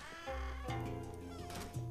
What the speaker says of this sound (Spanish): Ahí está ese mugroso gato.